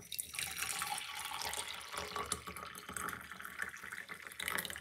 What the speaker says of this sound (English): get some hot water and pour on it like this.